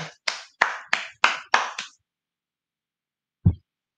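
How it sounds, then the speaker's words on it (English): Seven sharp, evenly spaced claps in quick succession, then a pause and one dull thud, close and fairly quiet, with no talking. "All right, let's clap for her."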